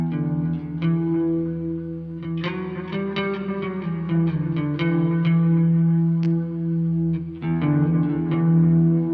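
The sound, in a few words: guitar with reverb and delay effects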